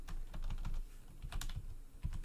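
Computer keyboard typing in a rapid, uneven patter of close, crisp keystrokes, with no talking.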